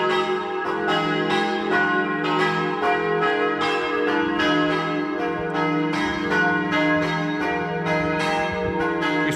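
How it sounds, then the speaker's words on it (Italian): Church bells of the church in Torlano, Friuli, Italy, peal continuously in a steady, overlapping rhythm, ringing loud and resonant with no voices. "Ed ecco il suono melodioso delle campane che ci invitano alla preghiera."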